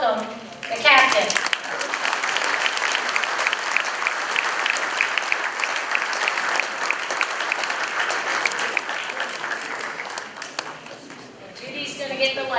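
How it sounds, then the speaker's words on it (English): An audience in a room gives a sustained round of applause lasting about ten seconds, dense and even, before it tapers off and a speaker's voice briefly comes in at the start and end. "I certainly don't deserve the round of applause being in this room"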